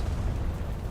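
Bombs go off in War Thunder, a brief, dense, bass-heavy explosion rumble that stays loud and steady for about a second.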